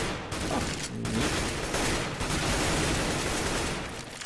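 Rapid automatic gunfire in Counter-Strike: Global Offensive, with dense bursts of shots packed into a continuous rattling volley.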